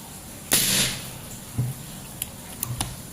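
A Predator SS-38 PCP air pistol fires at a metal silhouette target, giving a sharp pop followed by a brief metallic ping, then a few faint clicks, close and without talk.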